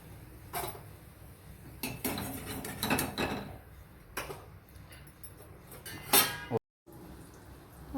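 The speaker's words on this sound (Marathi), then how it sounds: "वड्या मस्त फ्राय झालेले आहेत आता ते आपण एका प्लेटमध्ये काढून घेतो" Crispy fried alu vadi being lifted out of the pan onto a plate: irregular metallic clinks and scrapes of utensil against pan and plate, some sharp and close, over a faint background hiss with a brief silent gap near the end.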